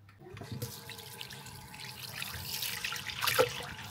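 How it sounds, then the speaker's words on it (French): Water poured into a kitchen appliance before running its cleaning mode; a splashing, gurgling pour starts quietly and grows fuller, with a brief louder splash near the end. "Vous mettez simplement de l'eau à l'intérieur"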